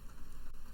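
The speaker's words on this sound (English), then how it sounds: "Just some rain noises that fade out." Rain noise sits in a music mix, a steady dense wash of patter and hiss with no distinct drops, evenly loud throughout the short stretch.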